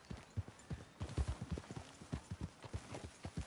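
Horse hooves clip-clop at a steady walking pace in Red Dead Redemption 2, each footfall close and distinct over a quiet outdoor backdrop, with no talk.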